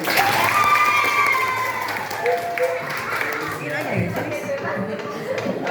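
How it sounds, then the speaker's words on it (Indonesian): A class of students claps, brisk applause filling the room and fading after a few seconds amid children's voices and chatter. "Ya, tepuk tangan untuk kita semua."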